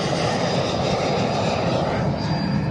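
A fixed-wing airplane's engines roar steadily during takeoff, a dense, continuous broadband drone that holds at a constant loud level throughout with no voices.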